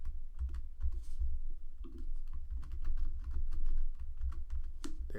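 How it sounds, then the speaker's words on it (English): Steady typing on a computer keyboard while entering an email address and password, with quick, irregular key clicks running continuously at close range and no voices. "type in your main email that you created for your store"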